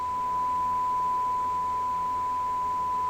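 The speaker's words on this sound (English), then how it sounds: "the beep wouldn't stop" A continuous, steady electronic beep at one unchanging pitch, holding for the whole stretch over a low background hum.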